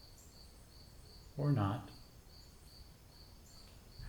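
Crickets chirp in a faint, steady pulsing pattern behind a short spoken phrase, their high repeated trills continuing quietly before and after the voice.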